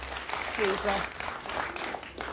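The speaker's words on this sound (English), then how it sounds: "the round of applause continues for the moment" Audience applause after a Theresa May speech, a moderate continuous wash of clapping with a low hum underneath and voices talking over it.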